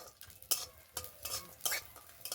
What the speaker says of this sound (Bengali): এবার এই ঘিয়ের সাথে কিছুটা ড্রাই ফ্রুটস নিয়েছি, একটু ভেজে নেব।